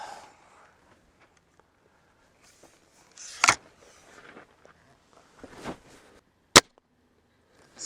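SIG ASP20 breakbarrel air rifle fired near a ballistic chronograph, with a sharp loud crack standing out among quieter handling clicks and mechanical noises in a quiet room.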